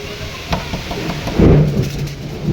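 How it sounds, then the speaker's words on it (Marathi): A deep rumble of thunder rolls in over steady nighttime rainfall, swelling briefly to a louder crack before fading back into the rain. "कसलं वरडतंय आबाळ"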